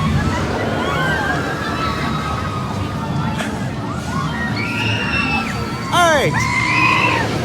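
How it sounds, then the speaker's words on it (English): Riders on a roller coaster at Hersheypark scream with joy overhead, distant wavering shrieks rising over steady crowd hubbub and park noise, with a louder burst of screams near the end as someone speaks briefly. "As the people scream with joy above us"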